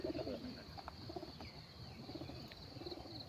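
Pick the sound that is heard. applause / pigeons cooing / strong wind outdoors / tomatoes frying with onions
pigeons cooing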